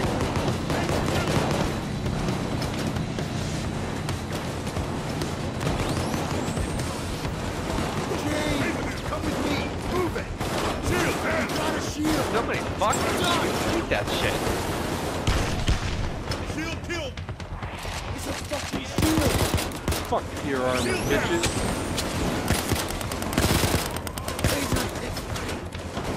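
Dense, continuous gunfire and explosive booms fill a loud firefight during a Big Bank heist on Overkill difficulty in the game PAYDAY 2, with mechanical clatter and players talking over the barrage throughout.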